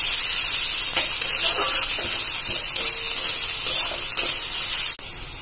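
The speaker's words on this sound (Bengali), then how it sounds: "পেঁয়াজটা হালকা ব্রাউনি করে ভেজে নেব, বেশি পোড়া পোড়া করতে হবে না" Onions frying in a pan until light brown, a close, continuous hissing sizzle with occasional stirring scrapes, fading sharply near the end.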